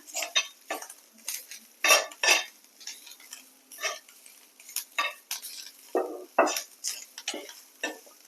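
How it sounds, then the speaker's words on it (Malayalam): Grated coconut dry-roasted without oil in a pan for a soybean curry, with a spoon scraping and stirring in repeated irregular strokes, close and fairly quiet. "കുറച്ച് തേങ്ങ ഒരു അരമൂറി തേങ്ങ നന്നായിട്ട് വറുത്തെടുക്കാം"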